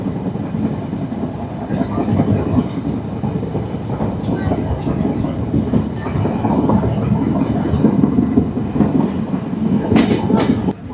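Simanta Express rolling at speed over the rails at night near Khulna, a dense steady rumble with rhythmic wheel clatter and a thin rising squeal near the end, close and loud throughout.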